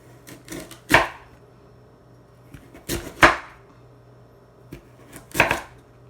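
A kitchen knife slices vegetables on a cutting board for a stacked veggie burger: three distinct clusters of crisp chops, each a quick double knock against the board, spaced a couple of seconds apart in a quiet room.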